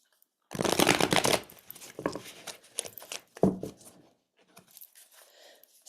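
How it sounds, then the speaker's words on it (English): A deck of tarot cards being shuffled up close, with a loud burst of riffling at the start followed by several shorter, softer shuffles and card slaps. "let me go shuffle so you can tell I'm shuffling"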